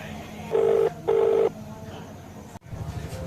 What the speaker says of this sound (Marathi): छोटू फोन लावून पाहतो